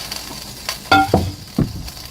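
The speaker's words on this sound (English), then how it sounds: "Stop all that boiling over." A pot of ribs boils over on the stove in a home kitchen, with short bursts of hissing and sputtering as the liquid spills onto the hot surface. Nothing else is heard between the bursts.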